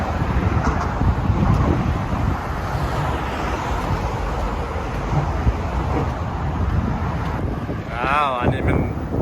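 Strong wind buffets the microphone in a steady roar near the Golden Gate Bridge in San Francisco, with someone speaking over it and traffic faintly behind.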